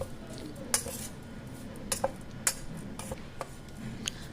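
Batter of jute leaves and masoor lentils for fritters being mixed in a bowl, with quiet rhythmic clinks and taps of a spoon against the bowl at uneven intervals, close and faint, no speech.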